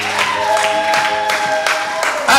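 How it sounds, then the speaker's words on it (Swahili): Congregation applauding during a Swahili church sermon, steady clapping spread through a large room, fairly loud, with a sustained tone or voice running underneath. "situpige Yesu makofi kabisa"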